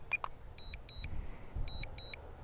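A DJI Mini 2 drone remote controller gives light electronic beeps, two quick pairs of short high tones separated by a pause, faint over low outdoor background noise.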